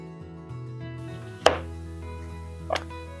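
A knife slices through a lemon on a cutting board in two sharp, close cuts against a faint humming background, with no talking.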